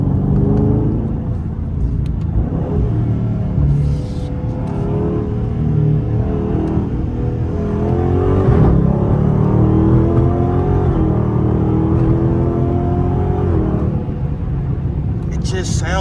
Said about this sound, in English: That's just my favorite sound. Like, the exhaust work, they just, Ooh. It's just, they just did it so perfect.